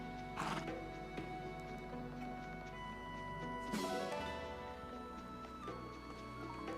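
Donkey braying in a video game, a harsh wheezy call rising over steady game music and ambience, with hoof clip-clop and ticking sounds nearby.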